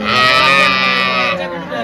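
A single loud, drawn-out moo from a young Holstein Friesian heifer close by, fading at the end.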